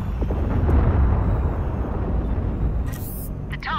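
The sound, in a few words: missiles fired from a ship in the video game Fractured Space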